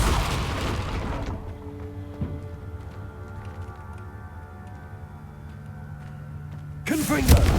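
A Confringo fire spell cast in the game Hogwarts Legacy sounds as a dull booming burst up front, then a long low resonant rumble that hangs on, and a second sharp crackling blast at the very end.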